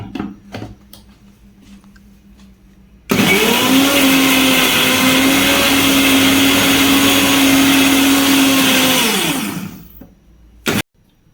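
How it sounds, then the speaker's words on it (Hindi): A mixer grinder grinding aloe vera starts abruptly and whirs loudly for several seconds at a steady high pitch, then winds down and stops with a brief clack. "इसको अच्छे से हम मिक्सी में पीस लिए हैं"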